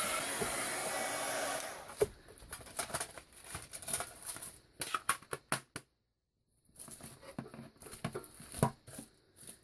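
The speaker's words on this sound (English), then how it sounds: "I'm going to dry this really fast" A hair dryer blows on a journal page for about two seconds, with a steady close rush of air, then cuts off and gives way to light paper handling, tapping and rustling with a short silent gap.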